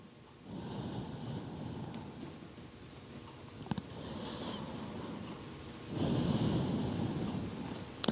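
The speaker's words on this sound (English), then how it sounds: "nice big breaths down in the belly" Deep belly breaths during a yoga session, slow rhythmic inhales and exhales close to the mic, with a louder, fuller breath near the end and a couple of brief clicks.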